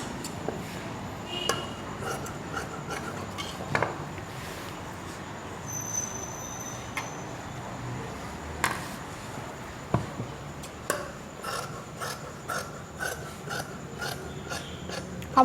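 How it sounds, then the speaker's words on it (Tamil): Scissors snip through fabric while a waistband strip is cut for an inskirt, with faint scattered clicks and rasps over a quiet indoor hiss and no talking. "அவ்வளவுதாங்க, நம்ம வேஸ்ட் பேண்டும் கட் பண்ணிட்டோம்."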